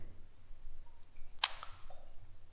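A single sharp click, like a computer mouse button pressed once, stands out in a quiet room.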